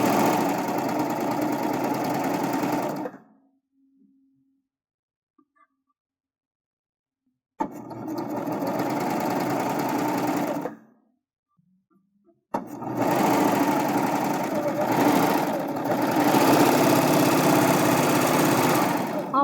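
A sewing machine stitches fabric into piping for a drawstring backpack, running in steady motorised bursts: about three seconds, then around three more, then a longer continuous run with brief pauses between.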